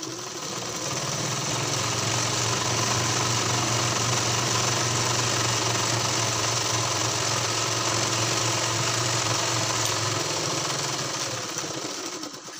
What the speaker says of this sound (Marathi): तर आता खालच्या बाजून टिप मारून घेऊ आपण.